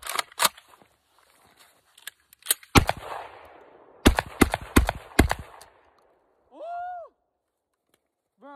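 A Saiga AK-style shotgun fires a rapid magazine dump outdoors, several loud sharp blasts in uneven bursts with echoing tails, and voices speak briefly between shots.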